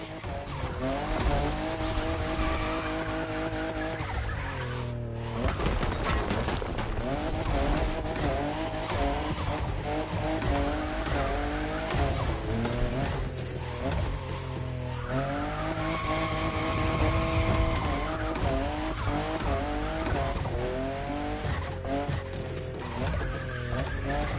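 A fifth-generation Toyota Supra races through The Crew Motorfest, its engine note rising and falling steadily with gear shifts and tire squeal, loud and continuous throughout with no one talking.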